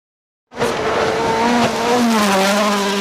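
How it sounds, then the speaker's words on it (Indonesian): Race car speeding past, loud and close, its engine whine rising and then falling in pitch as it passes, with tire squeal and no talking. "mobil balap,"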